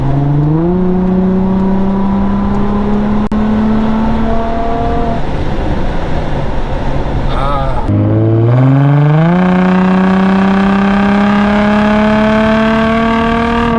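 An Infiniti G35 engine with a resonator and muffler delete revs up repeatedly, rising and falling in pitch, loud and close, with brief crackles and pops from the exhaust between pulls.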